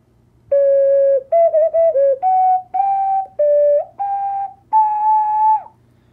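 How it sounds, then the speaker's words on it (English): A six-hole ocarina shaped like the Hylian shield plays a short melody of clear, pure whistling notes, some held and some quick, loud and close with no voices. "it is an ocarina shaped, obviously, like the Hylian shield. This is a six-hole ocarina."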